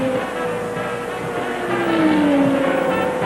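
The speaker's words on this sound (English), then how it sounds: "Suddenly, Bobby Unser is slowing down. He's lost his top gear, and now Rick Mears is the leader." Indy race cars at full speed during the 1984 Indianapolis 500, a loud continuous engine roar with a rising and falling pitch as cars pass, dense and steady throughout.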